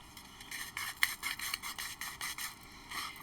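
Loose drill bits tumble and crunch against each other in a steady, gritty rasping rhythm of repeated scraping bursts, close and moderately loud.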